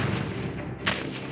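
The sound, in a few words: homing rocket explosions in video game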